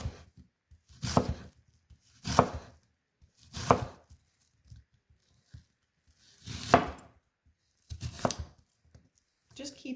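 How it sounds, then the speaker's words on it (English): A knife cuts an onion into slender slices. About five or six separate, crisp strokes fall at uneven intervals, with quiet pauses between them. "now start cutting your onion into slender slices"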